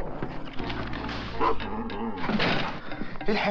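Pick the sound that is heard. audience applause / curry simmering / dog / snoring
dog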